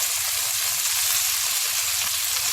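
Chicken pieces frying in hot oil, a loud, steady close-up sizzle with dense crackling and no pauses.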